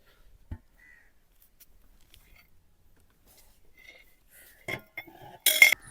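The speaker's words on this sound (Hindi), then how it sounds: "अब हम कढ़ाई को उतारते हैं नीचे।" An aluminium kadhai of aloo palak lifted off a home stove, giving a brief cluster of metallic clinks and scrapes near the end after a mostly quiet stretch with faint handling noises.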